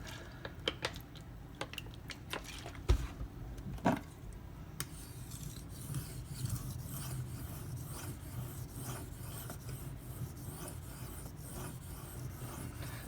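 A Benchmade Mini Grip knife with a D2 steel blade drawn across a Shapton Pro 2000 grit sharpening stone, giving soft repeated rubbing strokes with a few louder scrapes and taps early on, then a quieter steady hiss.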